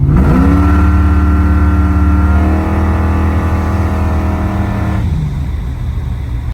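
Modified car engine revs hard through its exhaust, a loud choppy note climbing and holding high before the throttle drops back to a rough rumbling idle near the end, with no voices.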